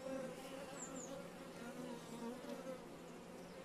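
Honey bees buzzing steadily around an opened hive, a soft continuous drone with individual bees passing close by now and then, heard quietly without talk.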